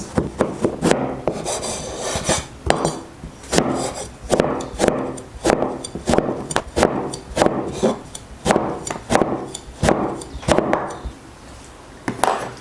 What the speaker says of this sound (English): First, cut the eggplant into slices.